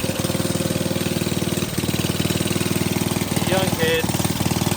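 A vintage Briggs and Stratton mower engine chugs in a steady, loud rapid beat, briefly dipping and picking back up, while a person speaks briefly over it.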